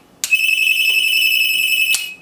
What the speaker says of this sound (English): this unit here is plugged into my ringing test generator